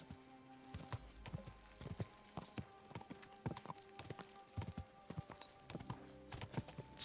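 Horse hooves clip-clop at a walking pace in the video game Kingdom Come: Deliverance, steady distinct hoofbeats close by and fairly quiet, with only slight game ambience around them.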